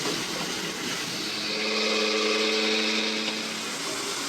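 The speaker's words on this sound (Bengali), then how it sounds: "আমি এই কালো সর্ষেটা গুঁড়ো করে নেব।" An electric grinder whirs as it grinds black mustard seeds into powder, a steady motorized drone whose pitch rises and holds midway before easing off.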